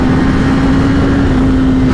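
Kawasaki ZX10r sport motorcycle from 2021, fitted with new parts, pulling away onto the road, a loud steady engine drone holding one pitch with heavy low rumble and no talking.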